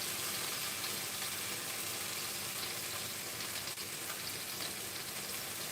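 Lamb's liver searing in a hot pan gives off a steady, even crackling hiss, like rain on a surface, with no pause and no talk over it.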